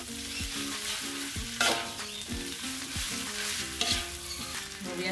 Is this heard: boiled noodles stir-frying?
yes